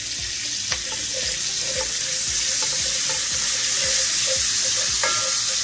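Onions and crushed garlic fry in a pot, giving a steady, close sizzle with faint clinks and stirring scrapes throughout, and no talking.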